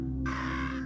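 A crow caws in the puzzle game Monument Valley, a single harsh rasping call that starts abruptly and holds steady over a continuous low musical drone, close and loud.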